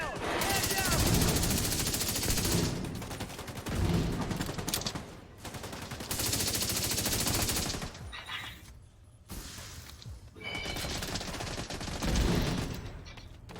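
Rapid gunfire in The Division 2 video game comes in several long, loud sustained bursts, separated by brief quieter gaps.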